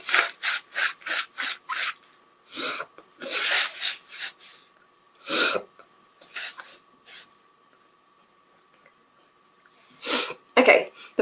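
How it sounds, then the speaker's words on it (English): Someone blows their nose into a tissue at close range, with a rapid run of short blasts and rustling, then a pause before a few more blows. "hopefully before I need to blow my nose again"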